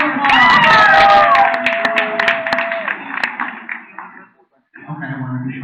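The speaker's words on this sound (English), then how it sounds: "Give a round of applause." Brief burst of audience clapping at a live sci-fi horror fest show, loud at the start and tapering off, with voices and laughter mixed in, a short pause, then talk resuming.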